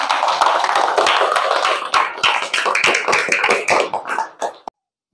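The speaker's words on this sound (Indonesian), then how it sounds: "Mari kita berikan tepuk tangan yang meriah." A class of junior high school students applauds a presenting group in an Indonesian-language lesson, a dense burst of many hands clapping close by for about four and a half seconds before stopping abruptly.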